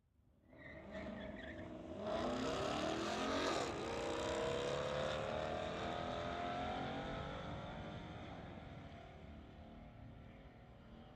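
Drag race between a 2020 Ford and a 2016 Mustang at a street legal event, engines roaring up from a distant launch into a loud sustained rising run that slowly fades, no talk.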